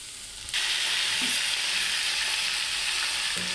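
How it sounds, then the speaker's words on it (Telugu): Bottle gourd pieces with turmeric drop into a hot pan and burst into a loud, bright, steady sizzle that holds without pause, with no voices. "ఇప్పుడు సొరకాయ ముక్కలు వేసుకుంటున్నాను."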